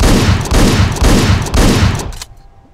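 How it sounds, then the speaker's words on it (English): Shotgun blasts from the video game Hotline Miami, loud and close, fired in quick succession about every half second, the last one cutting off sharply into near silence with no voices. "That's the shotgun sound."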